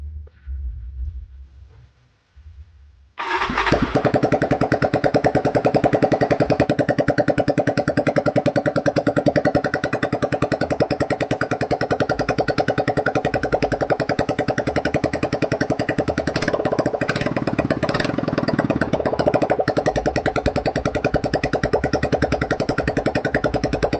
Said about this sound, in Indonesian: coba tes hidupkan mesinnya